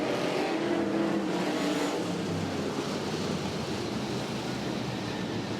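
Modified race cars in a 75-lap A Main at the East Bay Winter Nationals, several engines roaring together on the track, with a dense, continuous drone of passing cars and no pauses.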